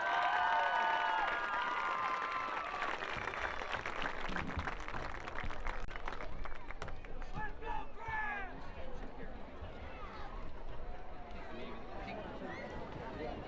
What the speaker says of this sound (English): let's have another round of applause for our homecoming candidate